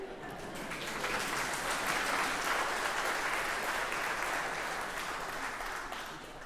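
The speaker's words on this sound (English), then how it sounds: "I hope you're clapping for Joe and not for my poor imitation" Congregation in a church breaking into sustained applause after a deacon's remarks, a dense steady wash of many hands clapping that swells and holds, with faint voices beneath.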